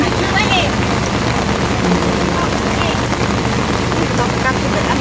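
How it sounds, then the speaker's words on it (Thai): Steady, dense rain hisses throughout, loud and close, with a constant drumming roar and no clear voices above it, falling in Laos. "ฝนตก"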